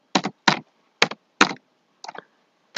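Computer keyboard keys tapped in short, distinct bursts, about six clustered clicks and presses spaced irregularly with silence between, close and clear.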